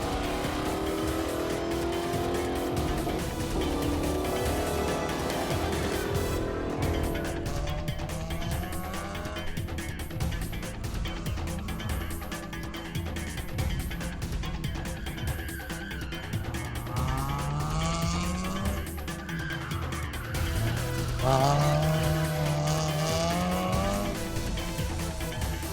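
Rally cars racing on a rally cross track, engines revving and shifting in repeated rising whines with tyre squeal and skids, loud and continuous over crowd and ambient noise.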